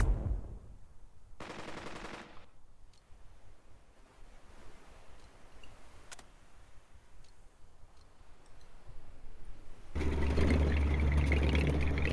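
Gunfire in the war strategy game Burden of Command, with a dense burst of rapid shots near the start and a loud rumbling volley at the end over a constant wind-like ambience.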